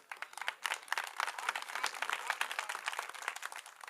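An audience at an evening poetry gathering on the eve of Ambedkar Jayanti claps together, a brisk, uneven burst of many hands at moderate distance that rises quickly and keeps going throughout.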